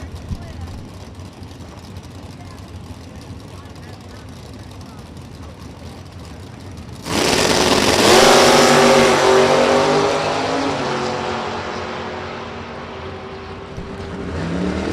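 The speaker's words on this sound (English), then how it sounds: "Right lane, Cliff Lewis dialed 633 in the Blazer." Drag racing cars launch at Kil-Kare Dragway, one of them a Blazer. A quiet idle is followed by a sudden loud roar as the cars leave the line, the engine pitch climbing and then fading with distance.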